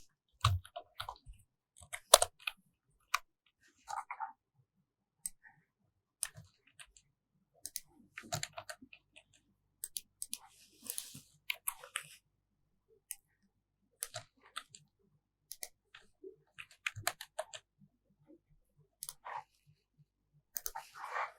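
Sparse, quiet clicks and keyboard taps at a computer while working on a jQuery web page, irregular and close, in an otherwise silent room.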